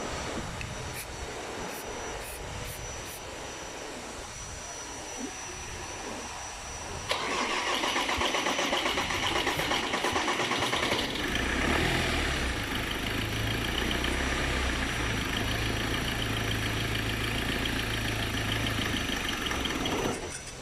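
A repaired Ford Transit 155 PS engine, fixed after a broken crankshaft, cranks and fires at about seven seconds, then runs and revs loudly and steadily close by, with a low idle rumble under the higher engine roar and no talking.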